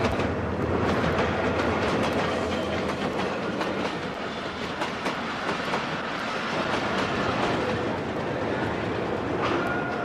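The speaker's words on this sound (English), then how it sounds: "I'm now back on the Khyber Mail, approaching Lahore, capital of the Punjab." The Khyber Mail passenger train in Pakistan runs along the rails near Lahore, heard from on board as a steady, loud rumble with rhythmic clickety-clack of wheels over rail joints and no voices.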